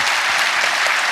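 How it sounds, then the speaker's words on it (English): Dense, steady audience applause fills a film festival awards tribute, many hands clapping together loudly and continuously throughout the short burst, with no voices over it. "give him a round of applause"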